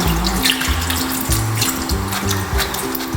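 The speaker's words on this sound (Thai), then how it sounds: "ล้างน้ำเปล่าสักสองน้ำก็ได้ครับ เพื่อจะให้น้ำปูนใสออก" Tap water runs steadily over mangoes being rinsed of limewater in a sink or basin, a close, continuous splashing with uneven gurgles and no speech.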